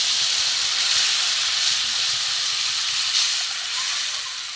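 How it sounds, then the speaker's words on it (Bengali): Water hits a hot pan of cooked-down masala for an egg-yolk ball curry, setting off a loud, continuous steamy hiss and sizzle that holds steady and eases slightly at the end, with no talking. "এটা কষানো হয়ে গেছে, এবার আমি জল দিয়ে দেবো।"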